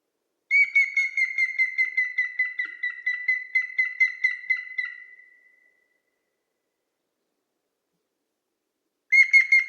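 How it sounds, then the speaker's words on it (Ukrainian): A grey-headed woodpecker gives a long, evenly paced series of clear whistled notes that slow and fade, then silence before another burst of the same call starts. "Звуки силої жовни"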